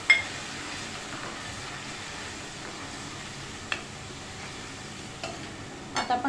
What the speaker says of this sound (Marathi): पाव चमचा हळद घातली आणि छान परतून घेणार आहोत